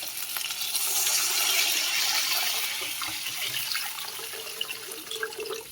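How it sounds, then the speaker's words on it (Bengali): Water is poured into a pan of mustard paste masala cooked in oil for a Bengali rohu fish curry, a close, steady splashing pour that swells and then eases toward the end. "এবার জল দিয়ে দেবো"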